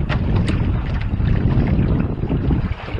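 Wind buffeting the microphone aboard a trimaran sailing on Lake Erie, loud gusty rumble with water movement beneath, continuous throughout.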